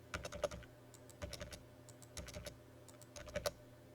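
Typing on a computer keyboard while entering data into an Excel spreadsheet, with close, crisp key clicks arriving in short irregular bursts separated by brief pauses.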